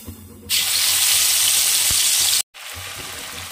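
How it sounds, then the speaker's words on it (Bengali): Ground spice paste hits leftover fish-frying oil in a pan, jumping from quiet to a loud, sustained sizzle that hisses steadily, stops abruptly for a moment, then resumes slightly softer. "আর মাছ ভাজার তেলেই আমি মশলাটা দিয়ে দেব। বাটা মশলাটা এবার দিয়ে দিচ্ছি।"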